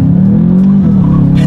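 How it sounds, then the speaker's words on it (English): A 2019 Volkswagen Jetta GLI's turbocharged four-cylinder revs hard under acceleration, a loud, close, steady engine note that dips briefly as a gear changes and then pulls on, with no talking. "Let's test out the acceleration along with the paddle shifters, and we'll see how quickly we can get this turbocharged 4-cylinder here up to speed"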